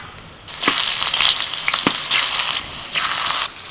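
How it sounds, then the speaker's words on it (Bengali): Half-boiled potatoes fry in hot oil in a pan, a loud close sizzle that swells in bursts with occasional stirring knocks and no talking. "এবার আলুগুলোকেও ভেজে নিচ্ছি"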